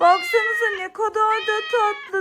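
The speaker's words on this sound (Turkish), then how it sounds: "Demek ki miyav sesi bundan geliyormuş değil mi" A kitten meowing repeatedly, high-pitched and close, with a person speaking over the calls.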